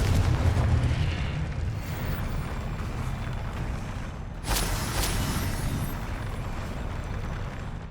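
A spell blast from the Confringo fire spell in Hogwarts Legacy, booming with a rumbling roar and a second sharp burst midway, over continuous low game ambience.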